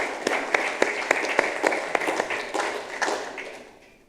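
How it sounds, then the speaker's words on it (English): A small audience claps at a technicians' sustainability and innovation conference, a handful of distinct sharp claps over a modest patter that fades out toward the end. "Mark, a round of applause, please."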